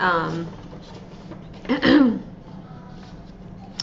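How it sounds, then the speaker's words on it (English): A single rough throat clearing rings out close by, brief and throaty, after a moment of speech and before quiet background hum. "I've got to clear my throat."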